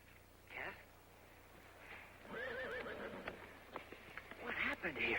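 Horses neighing on open ranch land, with a long wavering whinny near the middle and another toward the end, faint hoof clip-clop and people talking over it.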